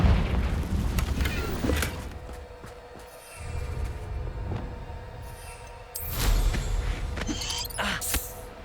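Confringo blasting spells in the video game Hogwarts Legacy go off as several heavy booms with crackling debris, loud bursts separated by quieter rumbling gaps, the strongest one arriving late.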